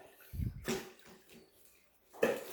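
A spin mop from a TV-advertised floor-mop set spin-drying in its bucket, with water flung out and draining away. There is a low whirring burst, then a wet swishing rush, and a second splashy surge near the end.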